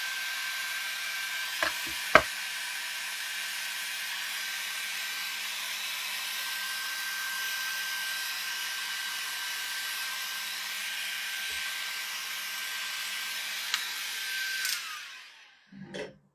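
Hair dryer running steadily on its lowest setting while handmade rustic Christmas ornaments dry, a constant airy whir with a few small knocks, cutting off near the end.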